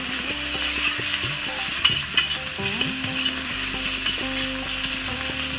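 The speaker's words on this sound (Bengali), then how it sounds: "এখন নাড়বো আমি রসুন বাটা দিয়ে দিচ্ছি আমি কিছুক্ষণ নাড়তে হবে" Garlic paste fries and is stirred in a pan, giving a close, continuous sizzle with scraping stir strokes and faint clinks throughout.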